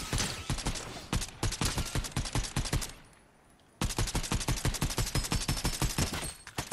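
Rapid automatic gunfire in Fortnite rattles loud and close in steady rhythmic bursts, breaks off for about a second, then resumes in a second long burst.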